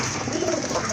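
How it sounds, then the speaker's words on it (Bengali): Native Bangladeshi pigeons, an old local round breed kept for sale, cooing softly and steadily at close range for a brief moment, with no voices over them. "এটা তো দেশি কবুতর না ভাই?"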